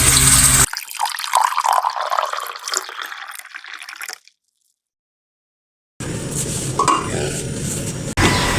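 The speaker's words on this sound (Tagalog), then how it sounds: "Palambutin muna natin to, lagyan muna natin ng tubig." Water poured from a tap into a cooking pot holding bilimbi, tomato and lemongrass, a steady splashing stream that stops abruptly, followed by silence and then more water and clinking of the pot.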